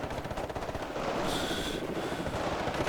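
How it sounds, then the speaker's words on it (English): Sustained gunfire in the real-time strategy game Warno as surrounded scout units come under attack, a dense, continuous crackle of shots and explosions that swells louder partway through. "These scouts start to take fire."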